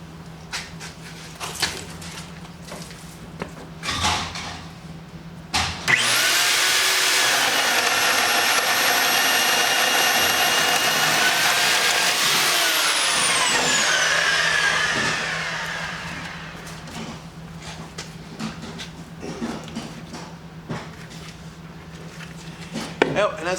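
Right angle hog drill boring through lumber from the reverse side, one loud continuous whining run lasting about nine seconds that winds down at the end, with faint clatter before and after.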